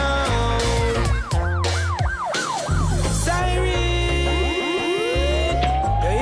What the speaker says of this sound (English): Siren, you hear it? The cops is coming to get ya